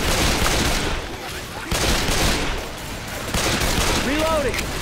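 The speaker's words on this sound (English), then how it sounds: "Dude, I shot you with a shotgun, common infected." Dense shotgun and frag round gunfire from the video game Left 4 Dead 2 fills the clip with continuous loud blasts and bursts, with a voice briefly heard over the shooting.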